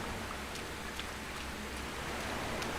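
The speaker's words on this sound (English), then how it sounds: "The rain effect is super cool, though. I'm really digging it. Look, there's even puddles." Rain in the video game Sengoku Dynasty falls as a steady, faint wash of noise with soft scattered drops, continuous and even, no voices over it.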